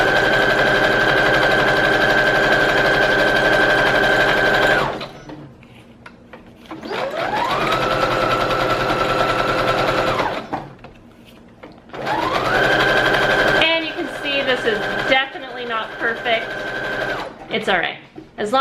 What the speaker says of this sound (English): I'm going to sew these, but you can use glue along 3 sides if you don't have a sewing machine.